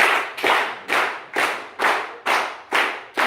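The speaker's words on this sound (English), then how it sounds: "Y'all start clapping like this." Audience clapping in unison at a training event in San Diego, California: seven loud, sharp claps in a slow, steady rhythm, roughly every half second, with nothing else in between.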